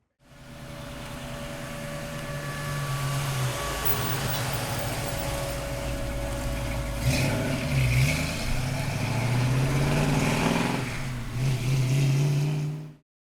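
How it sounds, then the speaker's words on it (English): A 1966 Ford Mustang Convertible engine idles with a deep, rumbling exhaust note, swelling a little midway before settling back; steady and close throughout, with no voices. "Listen to that exhaust, man. She sounds great."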